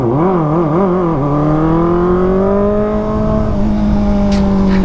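Loud Kawasaki ZX4RR motorcycle engine on a long road ride, a steady droning note that wavers and then holds a constant pitch, close and continuous with wind noise.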